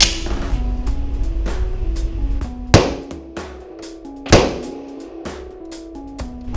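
Two loud, sharp one-handed pistol shots from a Smith & Wesson M&P 9 2.0 Compact with a 3.6 inch barrel, about a second and a half apart, standing out over a busy, clattering background.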